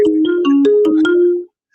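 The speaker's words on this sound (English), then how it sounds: "It's ringing, but it's not showing me the thing where I can answer the fucking call." A phone rings with an incoming call through the Nextiva app, a loud bright electronic ringtone of rapid repeating tones that stops abruptly.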